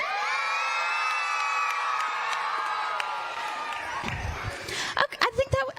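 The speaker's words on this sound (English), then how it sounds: "I need the loudest cheer you got" A crowd of children and adults gathered at an event in Miami lets out a long, loud cheer with whoops and shouts. The cheer holds steady for several seconds, then breaks into scattered yells and laughter.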